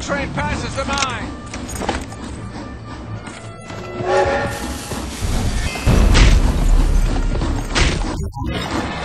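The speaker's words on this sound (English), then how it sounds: "The train is moving out!" A low mechanical rumble builds and swells under steady talking and game noise as a heavy train starts to roll in the video game GUN on Xbox 360.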